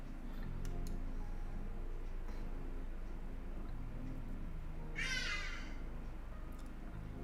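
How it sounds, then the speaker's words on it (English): A crow caws outside a window, a brief harsh call near the five-second mark, moderately close over a steady indoor background hum. "there's an actual bird outside my window right now, making some noise"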